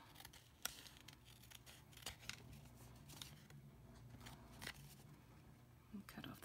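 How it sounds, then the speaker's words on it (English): Several sharp, crisp snips of scissors cutting paper for a notebook page marker, spaced irregularly over a quiet background with faint rustling, close by. "so I'm just going to take my scissors"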